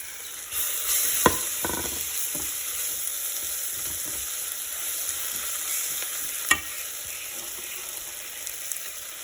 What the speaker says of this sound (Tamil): ரொம்ப கருவேப்பிலை, கறி லீஃப் போட்டாச்சு. போட்டுட்டு நல்லா வதக்குங்க.